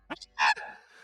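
A person imitates a fox with a brief, sharp yipping bark-like call, close and loud, preceded by a couple of quick clicks and trailing off into a short held tone.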